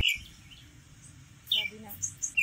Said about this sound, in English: what does the bird say?